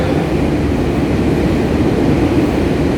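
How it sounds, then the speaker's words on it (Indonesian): A train passes loudly during an outdoor dawn religious talk in Depok, Indonesia, a continuous heavy rumbling roar that stays steady and close for the whole stretch, with no talk over it. "ini saya harus dikencang dari kereta."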